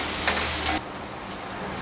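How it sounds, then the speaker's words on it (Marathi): Chopped tomato sautéing in a hot pan, with a steady bright sizzle that drops to a softer hiss partway through, close and alone. "टोमॅटोसुद्धा सॉफ्ट होईपर्यंत परतून घेऊ"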